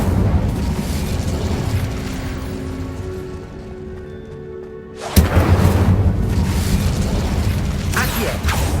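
A fire spell blast in Hogwarts Legacy: a sudden loud whoosh and burst that erupts after a quieter lull, followed by a roaring, crackling rumble that carries on to the end.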